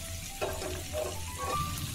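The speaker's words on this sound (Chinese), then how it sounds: "先不要翻动，简单拨弄，让大虾受热均匀，先煎一会儿。" Prawns fry in hot oil in a wok, giving a soft, steady sizzle with faint stirring nudges, quiet and close without speech.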